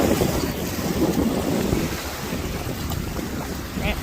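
High waves wash against a lake shore in strong wind, a loud rushing surf with heavy wind buffeting on the microphone, with no speech.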